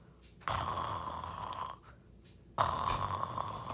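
Two long, raspy snores, each a drawn-out rattling breath separated by a short quiet pause, loud and close.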